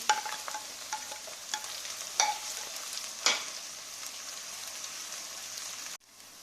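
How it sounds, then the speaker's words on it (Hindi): Garlic ginger paste and chopped green chillies fry with golden onions for achari chana pulao, giving a steady crackling sizzle broken by a few sharp spoon taps and scrapes before it cuts off abruptly. "अभी हम लहसुन अदरक पेस्ट डालने लगे हैं। हरी मिर्चें डालेंगे कटी हुई।"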